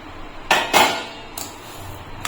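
Flattened rice (chire) tipped into a pan and stirred for sweet chire moa, heard as a few sharp metallic clatters of utensil against pan, two close together then another, over a quiet background.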